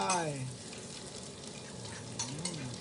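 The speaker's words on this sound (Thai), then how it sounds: "ทีนี้เราก็ผัดหมูครับผม หมูลงไป" Pork frying in a hot pan, a soft steady sizzle with light stirring. A brief tonal sweep near the start and another near the end could be a voice.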